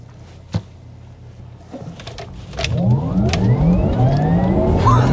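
Porsche Taycan electric car pulling away hard from traffic lights, a faint click and quiet idle giving way to a rising electric motor whine and growing road and wind noise as it accelerates.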